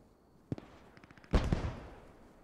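Submachine gun fire in Post Scriptum, a WWII tactical shooter, heard as a couple of sharp distant pops followed by a louder, short burst of rapid shots that trails off.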